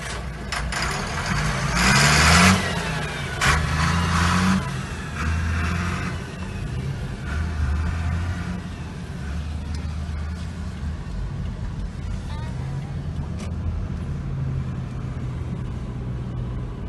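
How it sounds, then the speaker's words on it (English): Midday road traffic builds up, with car and truck engines idling and rolling by nearby; a louder vehicle surges past early on, then a steady low engine rumble with occasional passing swells continues throughout. "The traffic is building up a little bit."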